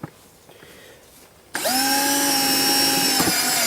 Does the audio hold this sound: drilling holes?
yes